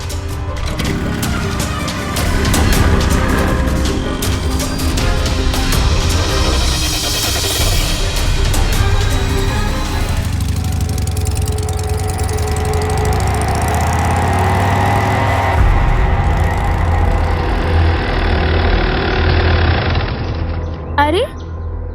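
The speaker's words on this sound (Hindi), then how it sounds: "सवाल जवाब मत पूछो, बाइक स्टार्ट करो।" A motorbike engine runs loud and close with a continuous rough drone, shifting pitch midway as it revs and settles, while people talk briefly over it.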